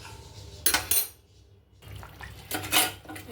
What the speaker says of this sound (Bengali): এবারে আরেকটু ঢেকে দেব।